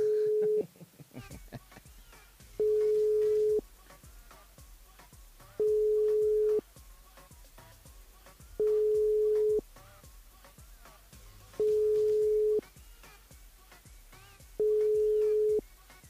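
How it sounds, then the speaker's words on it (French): Outgoing line tone on a radio show's phone call to a listener, a steady beeping tone repeating about every three seconds, six pulses in all, over faint background studio noise. "On appelle Marina sur le standard."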